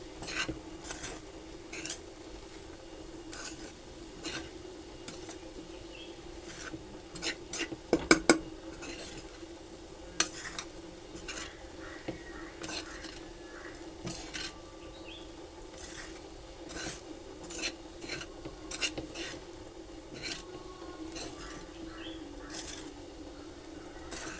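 Onion-potato poha is stirred in a pan with soft, scattered scrapes and clinks of a utensil against the metal over a steady low background hum, plus one brief louder clatter burst.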